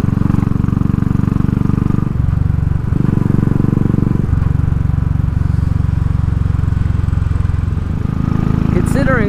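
Royal Enfield Classic 500 single-cylinder engine with Race Dynamics tuning and pod exhaust, heard loud and close as a steady thumping idle and throttle blips that rise and fall in bursts, without clear distinct pops.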